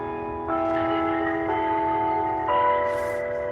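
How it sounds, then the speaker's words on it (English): A church bell in Columbus, Ohio rings out at night with two loud, sustained strikes whose bright tones hang and overlap, heard clearly and fairly close with no one talking. "we're gonna give it a second for the bell to clear"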